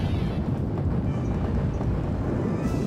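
The Explosion spell in the video game Suikoden goes off as a dense, roaring blast that rumbles loudly and steadily for a few seconds, with no voices over it.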